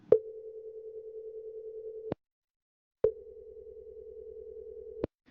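Outgoing telephone call ringback tone: two long steady buzzing tones, each about two seconds, separated by a second of silence, clear and alone with no voices.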